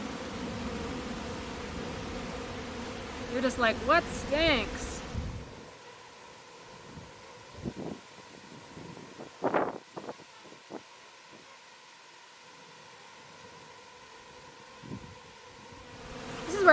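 Honey bees buzz around an opened hive during a bare-handed honey harvest, a steady insect drone under outdoor wind, with a person speaking briefly near the start.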